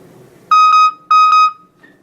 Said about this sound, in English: you'll hear after a second or two a loud beep